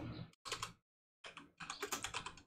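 Clicks and clatter of typing on a computer keyboard, a few bursts of keystrokes with a short pause between, close and fairly quiet, including a press of the Enter key while composing a Gmail email.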